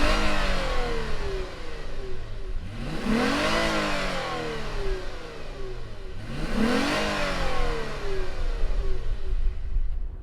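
The 3.5-liter engine of a 2019 Lexus RC350 F-Sport revs twice, each pull rising to a strong roar and sliding back down to a steady idle, close and loud with no talk.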